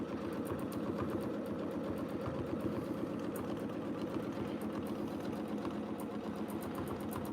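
A sewing machine stitching steadily during free-motion quilting of ruffle shapes, a continuous fast mechanical whir and rattle, close and even throughout, with no talk.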